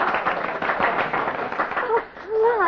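A radio-drama audience bursts into dense, spontaneous applause after a dancing act, a loud, steady wash of many clapping hands that dips near the end as a few rising whistle-like tones come in.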